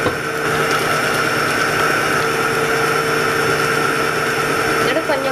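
An electric hand mixer beats cheesecake batter of cream cheese, eggs, sour cream, vanilla and white flour, giving a steady, loud motor whir that runs throughout without a break.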